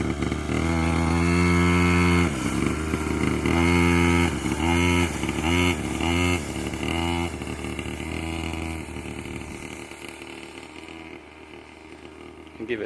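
A quad bike engine idles and revs lightly with a steady buzzing drone and mild throttle swells that fade toward the end, heard close.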